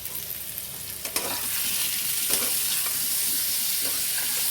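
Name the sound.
stirring tomato, onion and nut masala frying in oil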